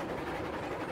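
Freight train rolling along track in the Railroads Online video game, a steady low rumbling roar with faint rail clatter, continuous and fairly loud throughout.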